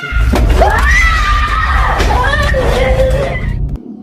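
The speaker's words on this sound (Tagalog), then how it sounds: "isang napakalakas na sigaw ng bata ang narinig nila sa loob ng bahay" Inside a house, a child lets out a loud, shrill scream that rises and wavers for several seconds before cutting off abruptly.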